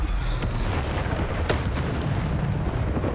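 A Bombarda explosion spell in Hogwarts Legacy produces a loud rumbling boom with crackling debris that fills the whole moment up close.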